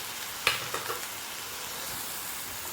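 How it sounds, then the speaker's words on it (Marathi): Roasted semolina goes into a hot pan for pineapple sheera, with a soft scrape and a couple of light clatters, then a faint steady sizzle as it is sautéed, quiet and close with no voices. "साधारण 1 मिनिट हे चांगले परतून घ्यायचं आणि आपण जो भाजलेला रवा आहे तो ह्याच्यात घालून घ्यायचा"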